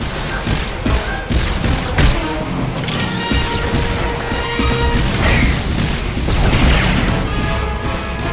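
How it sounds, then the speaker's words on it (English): Heatseeker missiles pounding a turret in the Star Wars: The Old Republic video game: loud, dense crashes, thuds and booms layered over busy battle noise and whooshing effects, continuous throughout. "The Mercenary fires off a few Heatseeker missiles"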